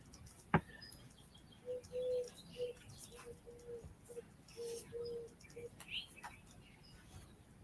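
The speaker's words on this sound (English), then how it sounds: "It's a bird coming over here." Bird chirps and short repeated calls nearby, a run of brief tonal notes with one sharp click near the start, heard over quiet outdoor background.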